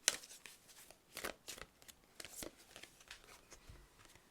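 Oracle cards being shuffled by hand close up, soft papery riffles and flicks in uneven bursts at low volume, with no talk.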